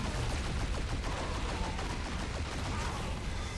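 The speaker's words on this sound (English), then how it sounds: "just keep shooting" Dense, continuous rapid gunfire from shooting in the video game Marvel Heroes, playing Cable in a hybrid endgame build, with overlapping shots and effects forming a loud, unbroken barrage throughout.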